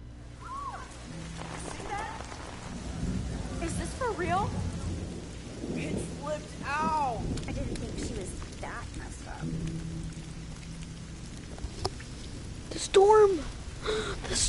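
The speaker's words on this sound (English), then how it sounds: "Storm! The storm!" Thunder rumbles and rain pours through a storm scene in the video game Life is Strange, with a steady downpour under several deep rolls and a louder crack near the end, while characters shout and speak over it.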